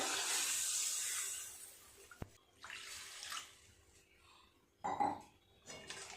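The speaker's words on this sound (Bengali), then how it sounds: "দিয়ে দেব জল" Water poured into a pan of mustard fish curry, starting with a rushing splash that fades, followed by a sharp clank of cookware and scattered clinks and sizzles.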